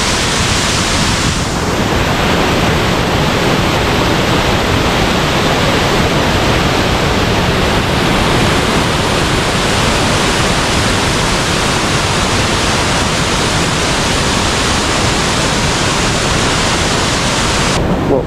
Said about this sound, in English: the water, oh my god, it is just pouring down here